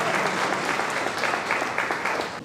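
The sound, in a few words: audience applause at book launch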